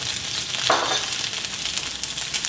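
A snack frying in hot oil as seasoning and chili powder are stirred in, giving a steady close sizzle with a brief scraping stir partway through.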